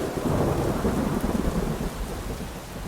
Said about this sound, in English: We've had this last bit of rain and I think we're going to get a bit more yet.